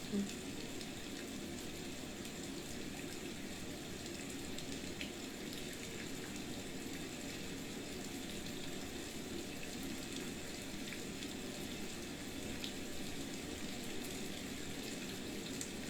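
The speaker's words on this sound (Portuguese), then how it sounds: "Para o pensamento no som das águas da chuva hoje." Light rain falls into a river as a soft, continuous wash of fine water noise, even and unbroken throughout.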